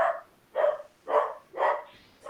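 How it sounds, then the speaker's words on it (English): A dog barks five times in an even, steady rhythm, each bark short and moderately loud, with quiet gaps between and no other sound. "This is a dog barking because the dog."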